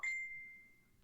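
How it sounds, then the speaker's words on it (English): A single short notification ding for an incoming text message in a tabletop mystery game, ringing out clearly and then fading away over about a second, with no talk over it. "you get a text message as well"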